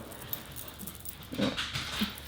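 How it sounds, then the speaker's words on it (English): Dogs at home whimper and whine faintly in short thin cries, distant and low in level against a soft indoor background. "The dogs are acting psychotic."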